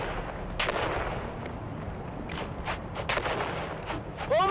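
Grenade blasts and rumbling battle explosions boom through a Dune-themed Christmas combat scene on Arrakis, a dense roar of heavy detonations with a sharp burst near the end, no voices heard.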